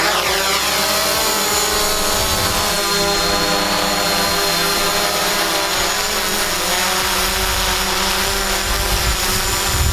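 DJI Mavic Pro drone lifting off and hovering, its high whining propeller buzz loud, steady and close throughout with tonal harmonics, no talk.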